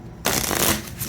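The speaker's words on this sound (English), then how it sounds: "let me give it a quick shuffle, and you can actually hear by the sound how" Sturdy matte Wicked Tales dark Lenormand cards being shuffled, a quick burst of close riffling that starts abruptly and runs dense and steady for under a second.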